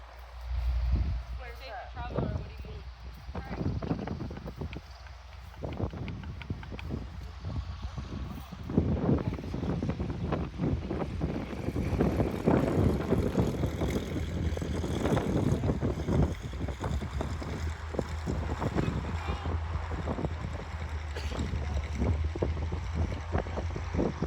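A low engine drone from small planes arriving at a fly-in, with wind buffeting the microphone, rising and holding as aircraft approach, while people talk throughout.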